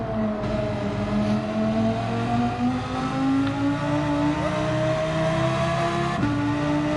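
Engine of a car driven in Gran Turismo 7 on a mountain time trial, holding a loud, continuous high-revving drone with gradually rising pitch and a sharp gear change near the end, no voices.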